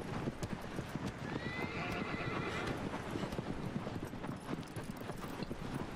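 Horse hooves clip-clop steadily while a horse neighs once in the middle, with a busy game-like background bed throughout, in the video game Shadow of the Colossus.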